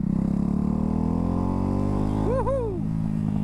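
A Ducati Hypermotard 698 Mono single-cylinder motorcycle rides along in third gear in road mode on a cold day, its engine drone steady and close, with a rising then falling note as the throttle rolls off and back on.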